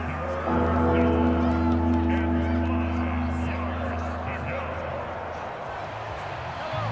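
Stadium crowd roar in the Madden NFL football video game, a steady broad wash of cheering that swells and stays loud for several seconds, with a low sustained drone beneath it and voices mixed into the noise.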